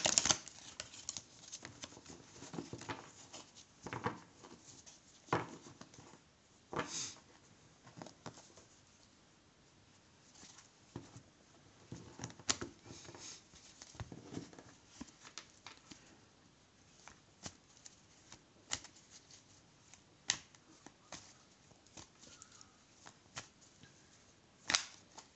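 Tarot cards are shuffled by hand in irregular bursts of soft riffling and slapping, close and fairly quiet, with short pauses between them and no voices.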